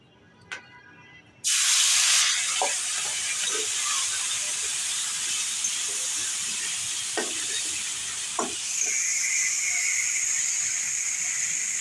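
Bhetki fish hits hot white cooking oil with a sudden loud burst of sizzling, then settles into a steady close hiss, with a few small clatters of utensils before and during.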